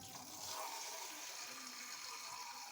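Rice gets rinsed under a steady, close rush of water during the third washing, a continuous gushing wash with no pauses.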